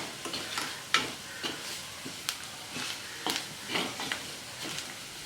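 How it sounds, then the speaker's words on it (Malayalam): Spice powders frying on a low flame in a pan for mullet fish curry, a soft steady sizzle broken by repeated scraping strokes of a stirring spoon. "ഈ സമയത്ത് നമുക്ക് ഇതിലേക്ക് എടുത്തു വെച്ചിരിക്കുന്ന പൊടികളും കൂടി ചേർത്ത് കൊടുക്കാം."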